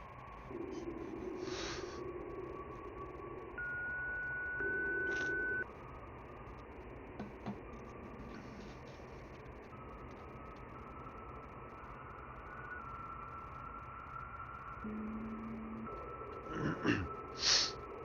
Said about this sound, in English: Please leave a message at the tone.